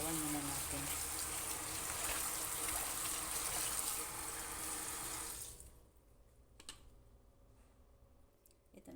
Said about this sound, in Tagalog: Hugasan muna natin yung gulay natin, babanlawan muna natin.